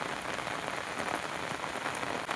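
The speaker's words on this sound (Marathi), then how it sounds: "आणि पाऊस एवढा पडतो" Rain falls hard and steadily on a surface close by, a constant hiss with scattered patters of drops throughout.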